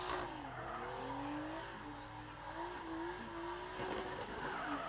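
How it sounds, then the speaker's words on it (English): A drift car rolling back to the start line at a drifting event, its engine note droning and sliding in pitch at moderate distance, steady throughout with no talk. "So we can just hear Jordan Boyce making his way back to the start line"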